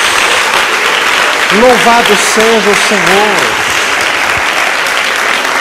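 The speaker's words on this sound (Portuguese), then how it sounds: "Dê uma salva de palmas a Jesus." A church congregation applauds loudly and steadily, a dense close roar of clapping while a preacher's voice speaks briefly over it in the middle.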